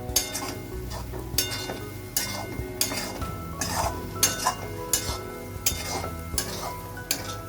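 A spatula scrapes and knocks rhythmically against a pan while a mint and coriander paste for samosa filling roasts, each stroke a sharp metallic clatter over a low, continuous sizzle.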